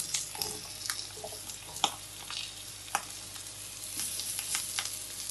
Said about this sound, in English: I'm going to add a little bit more olive oil to the pan, and I'm going to saute my mushrooms